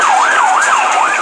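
Emergency vehicle sirens wail in a steady rising-and-falling sweep, loud and close, filling the whole moment with no voices over them.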